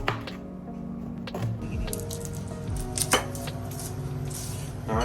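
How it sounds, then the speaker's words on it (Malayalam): Garlic being cut with a knife on a board, a run of crisp, closely spaced taps with a few louder knocks among a faint background hum, no voices. "ഈ വെളുത്തുള്ളി പിന്നെ അരിയാൻ എന്തെങ്കിലും എളുപ്പവഴിയുണ്ടോ?"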